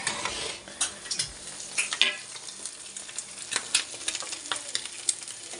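An egg for a poach fries in a pan, close sizzling under repeated clinks and scrapes of a utensil against the metal, busy and irregular throughout.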